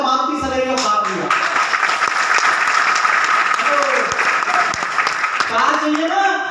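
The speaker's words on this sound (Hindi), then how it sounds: "तो ताली अच्छा बजाइए" Audience applause at a business seminar in a Hindi-speaking setting, a dense steady clatter of many hands lasting the whole stretch, with a voice talking over it at the start and end.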